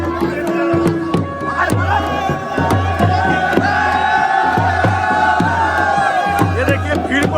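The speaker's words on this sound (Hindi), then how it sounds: "देखिए भीड़ देखिए दोस्तों" A dense crowd of devotees at the Maliyal fair in the Pindar valley roars and shouts together over a steady, insistent beat of percussive hits, loud and close, with voices blending into a continuous din.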